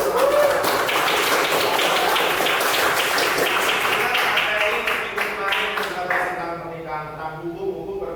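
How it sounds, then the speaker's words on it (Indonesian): Students in an Islamic education class applaud together, a dense, steady burst of many hands clapping at close range that holds for several seconds before thinning out and fading toward the end. "tepuk tangan dulu"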